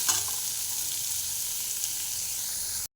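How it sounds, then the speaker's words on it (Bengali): Carrot, papaya, potato and green beans are stirred and fried in a pan for a chicken stew. An even sizzle runs with a few close scraping stir sounds, then cuts out briefly near the end. "এগুলো দিয়ে একটুখানি নাড়বো।"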